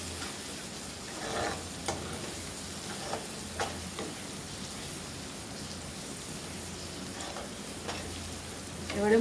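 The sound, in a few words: spice masala frying and being stirred in pan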